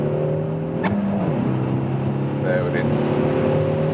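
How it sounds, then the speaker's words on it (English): Peugeot 308 GTi 270 hp hot hatch accelerating hard in third gear, engine note climbing then dropping with a shift before rising again, heard from the cabin with someone speaking briefly over it. "So let's accelerate again from third gear now."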